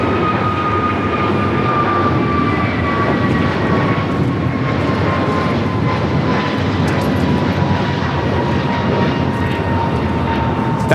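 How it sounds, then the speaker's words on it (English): An American Airlines Airbus A321neo takes off at LAX, a loud, sustained jet roar with a thin whine that slowly falls in pitch as it rumbles steadily past, no one speaking. "That is American Airlines 2447 taking off to Miami, Florida on the A321neo"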